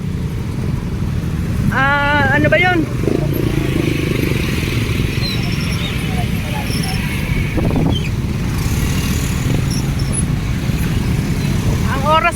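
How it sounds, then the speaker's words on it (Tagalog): Busy street traffic with cars and motorcycles passing on a bridge at rush hour, a steady roar of engines close by with occasional horn-like tones, while people talk briefly. "Ayan, traffic ngayon guys."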